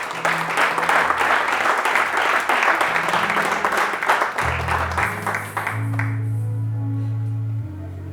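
A church congregation applauding the Lord, a sustained roar of loud clapping from many hands that fills the space for several seconds before tapering off beneath a low sustained organ or keyboard chord.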